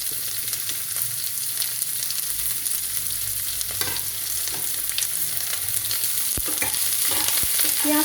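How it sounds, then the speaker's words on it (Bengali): Chopped onion frying in a pan of hot oil, giving a continuous close sizzle broken by scattered scraping and clicking strokes of a spoon, with no voices. "এবার আমি কুচনো পেঁয়াজটা এর মধ্যে দিয়ে দিচ্ছি"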